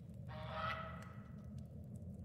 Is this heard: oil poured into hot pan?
no